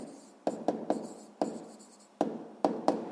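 Pen or chalk strokes on a writing surface while a physics exercise is worked out, heard as a series of short, close scratching taps in small irregular clusters.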